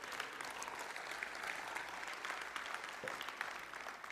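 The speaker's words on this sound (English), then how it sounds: "Go ahead and applaud for it." An audience at a weekly spiritual talk breaks into soft, sustained applause with dense, even clapping that stays faint and distant throughout, with no voices over it.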